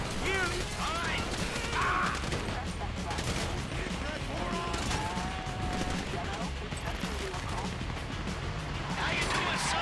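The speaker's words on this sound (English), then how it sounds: "You hear that gunfire?" Gunfire in the video game Grand Theft Auto 5 rattles in dense bursts and volleys throughout, mixed with clanks, crashes and game effects, with voices talking over the chaos.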